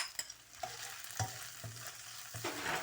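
A small onion drops into hot oil with golden-fried ginger garlic paste for a bhindy dish, giving a steady sizzle broken by several stirring scrapes, close and fairly quiet, with no talking.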